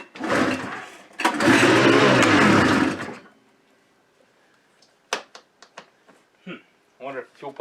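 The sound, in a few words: Arctic Cat Panther snowmobile engine trying to start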